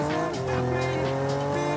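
Electric car in the Rocket League video game giving off a continuous whining, whirring drone with shifting pitch and tire-like squeals, loud and close throughout without pause.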